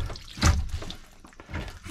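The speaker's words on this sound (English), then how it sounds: "That's a lot of water." Water draining from a Forest River RV hot water heater tank during a repair, a close splashing gush with dripping and trickling onto rags, loudest at the start and swelling again at the end.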